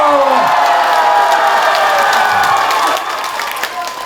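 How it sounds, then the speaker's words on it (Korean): Applause and cheering from an audience at a comic dance show, a busy wash of clapping with shouts over it that softens near the end. "박수와 함성"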